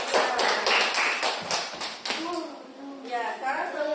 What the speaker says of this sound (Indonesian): kalau begitu tepuk tangan untuk kelompok kita